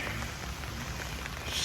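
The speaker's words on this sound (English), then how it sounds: "But it's raining." Steady rain falls outdoors on a garden being covered with heavy-duty weed barrier fabric, an even close patter throughout with no talk.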